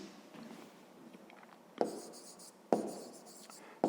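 Pen or marker writing numbers during a fifth-grade maths lesson on train speeds, a soft scratchy patter of strokes broken by three sharp taps or knocks, close and fairly quiet, with no one talking.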